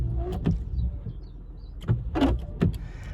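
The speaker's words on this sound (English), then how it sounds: "We will have a wiper test." Windscreen wipers on a second-generation Toyota Yaris, parked outdoors: three or four short whirring motor sweeps at a steady rhythm, each ending in a faint thunk, over a low idling engine rumble.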